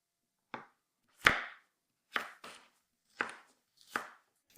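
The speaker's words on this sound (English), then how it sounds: "now I'll cut it into rather small pieces" A knife chops sharply through a broccoli stem on a board, cutting it into small pieces, five or six distinct cuts spaced about a second apart in a quiet room.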